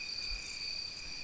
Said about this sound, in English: We have a sharp cricket.